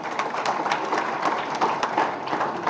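A political rally crowd in Ratnagiri breaks into applause: dense, steady clapping from many hands sustained for nearly three seconds, with no clear voices on top.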